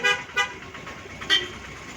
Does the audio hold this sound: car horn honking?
yes